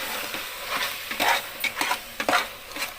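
Tomatoes sautéing in a pan for biryani, with a soft sizzle under repeated scraping and stirring strokes of a spoon, fairly close and steady, no voices.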